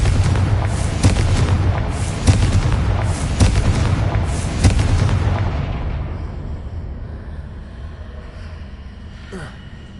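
A loud blast from the Confringo spell opens with a series of booming, crackling bursts, then rumbles away to quiet by about six seconds, with a faint thump near the end.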